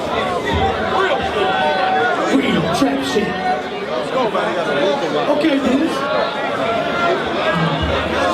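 A rap battle crowd chatters and reacts in a loud, dense hubbub, with shouting voices layered over one another throughout and people talking close by.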